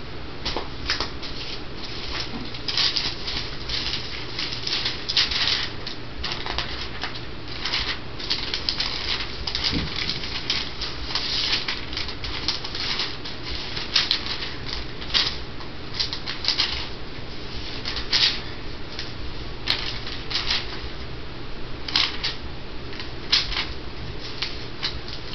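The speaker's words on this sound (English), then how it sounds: "I haven't clipped my coupons yet, as you can hear probably." Paper coupons being clipped with scissors, a continuous busy rustle and snipping of paper, fairly close and steady throughout with frequent sharp cuts and crinkles, no talking.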